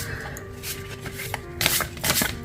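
Tarot cards being shuffled close by, a soft riffling that swells into a brisk burst of quick flicks near the end, with a faint steady tone in the background.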